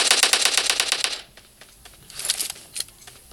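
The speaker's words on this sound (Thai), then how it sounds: "เฮ้ยมีคนยิงมา" A rapid burst of video game gunfire opens with about ten evenly spaced shots, then gives way to a few scattered, quieter single shots and clicks. No talk is heard.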